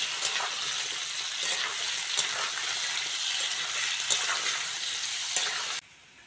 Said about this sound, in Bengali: আলুটা হালকা করে ভেজে নিয়েছি।